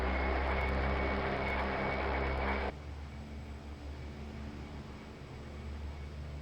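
OV-10 turboprop engine droning while taxiing in a flight simulator game, a loud steady broadband roar with tonal hum that drops abruptly to a quieter, softer engine rumble for the remainder.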